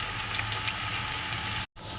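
Onions frying in a pan for a Bengali-style chicken curry, a bright steady sizzle and crackle that runs continuously up close, then drops out for an instant before resuming.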